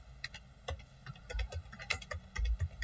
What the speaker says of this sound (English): in caption I'll type the heading